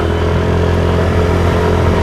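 Steady, loud motorcycle engine running throughout while riding on a sunny day, a continuous mid-pitched drone with no break or audible talk.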